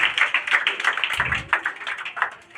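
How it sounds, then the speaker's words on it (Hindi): An audience claps steadily at a Bihar Board district toppers' award ceremony as medals are handed out, close, rhythmic hand claps with a brief low thump partway through. "ताली मारते रहो।"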